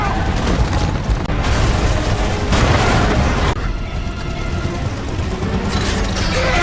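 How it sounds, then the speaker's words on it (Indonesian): A loud, sustained roaring rumble with crackling bursts, like a big explosion and its fiery aftermath, filling the whole clip. "Sebuah ledakan besar memaksa Aatami memutar jalan"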